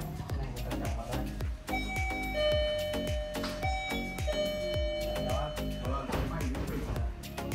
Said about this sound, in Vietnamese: Mấy anh đó bấm chuông để giao hành lý.